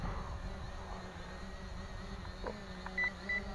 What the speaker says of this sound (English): You have a beep, a warning beep of the battery level.